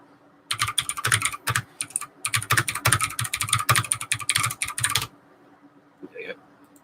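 Fast typing on a computer keyboard while replying to a message, close and clear, a rapid run of key clicks in bursts for several seconds before stopping, with a brief voice sound at the end.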